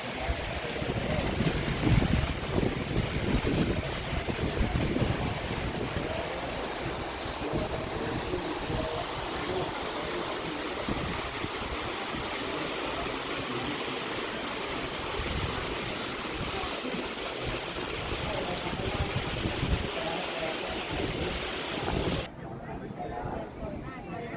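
Artificial waterfall at a temple site in Khao Kho, Phetchabun, giving a steady broad rush of falling water throughout, with wind buffeting the microphone and some nearby talk, before cutting off sharply near the end.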